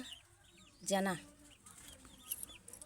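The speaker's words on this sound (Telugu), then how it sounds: "కోడి పిల్లలు అయితే అరసి కడుతున్నాయి అన్నమాట చేపల కోసం" Young chicks foraging for fish scraps let out one short, quiet cluck against soft outdoor background noise.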